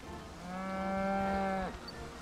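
A sustained cow-like moo from a Pokémon in the New Pokémon Snap video game, one steady drawn-out call lasting about a second before cutting off, clear and fairly close.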